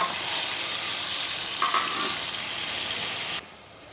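Tomatoes and a handful of mint frying in a pressure cooker for vegetable biryani: a loud, continuous sizzle with a brief clink of stirring midway, cutting off abruptly near the end.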